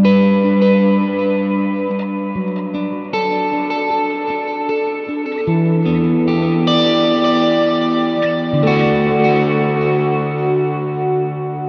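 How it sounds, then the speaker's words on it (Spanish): A second, contrasting reverb effect on a Hotone Ampero II Stomp multi-effects unit, applied to electric guitar, with ringing chords that bloom and linger under a spacious wash, loud and steady with no talking. "Vamos con la otra reverb, que es totalmente diferente y suena."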